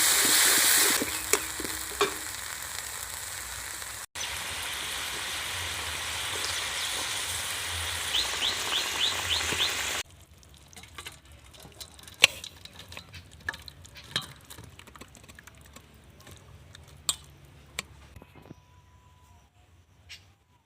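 Beaten sour curd goes into a pan of sizzling spiced masala for Bengali doi katla, a loud hissing fry with stirring clinks that drops off to quieter scraping and faint sizzle partway through.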